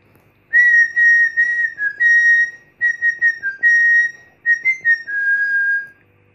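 A person whistles the València football anthem as a melody to switch a lamp on and off; a clear, loud tune of phrased notes with short gaps, alone without talk.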